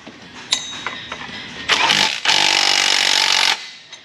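An impact wrench runs down bolts on a GM 3.8L 3800 Series II V6 during final assembly near the alternator mount: a few light taps, then a short loud rattling burst and a longer sustained hammering burst, close up.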